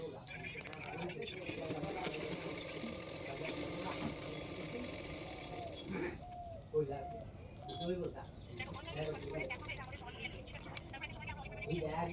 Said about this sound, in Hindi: तो देखो मैं इस तरह से सिलाई कर रही हूँ।